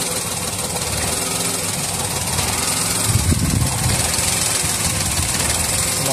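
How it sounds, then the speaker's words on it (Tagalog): A Toyota Wigo engine idles with a misfire, heard up close as a loud, steady running drone with an uneven, knocking pulse and a brief surge partway through. "Ito yung makina, palyado."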